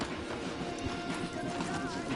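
Horses in the video game Red Dead Redemption 2 clip-clop with hooves close by, a brief whinny sounds, and talk runs faintly underneath.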